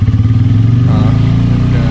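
A motorcycle on a long ride from Haldwani toward Dehradun along a hilly route, its engine a loud, close, steady drone with a slight pulsing rhythm throughout.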